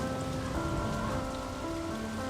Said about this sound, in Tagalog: Ulan lang yan, hindi yan nakakamatay.